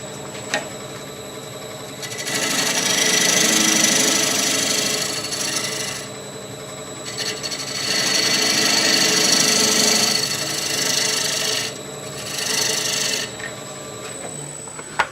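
A turning tool shapes the foot of a green wood bowl spinning on a lathe: three separate scraping, rasping cutting passes, each a few seconds long, with the quieter hum of the machine between them.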